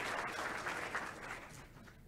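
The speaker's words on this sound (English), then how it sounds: "can we honor her with a round of applause" Audience clapping for a graduate receiving a Master's in Education at the UGA Griffin spring 2018 graduation ceremony, a dense steady round of applause from a sizeable crowd that gradually thins and fades toward the end.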